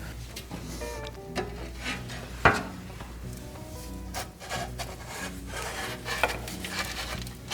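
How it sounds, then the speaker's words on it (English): Steel wool soaked in WD-40 scrubs Honda CB450 motorcycle parts in rapid, close rubbing strokes, with a couple of sharp metallic clicks in the steady scratchy friction. "Hit them with some WD-40 and steel wool and they look about brand new."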